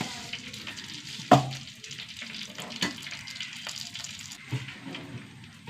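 Mustard seeds dropped into hot coconut oil give a close, steady sizzle with scattered pops and a few sharper knocks against the pan, fairly quiet and without speech.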